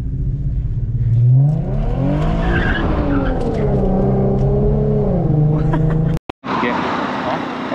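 Boosted Nissan 350Z revving and skidding, the engine rising and falling in sweeping pitch with tire noise, loud and close, ending in a brief cutout before the rumble resumes.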